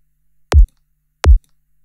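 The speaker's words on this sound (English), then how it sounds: "the sample is analyzed just to an oscillator and an envelope," Two short electronic kick drum hits resynthesized from an oscillator and envelope, each a punchy click-topped thump with a quick low sine decay, spaced about three quarters of a second apart in silence.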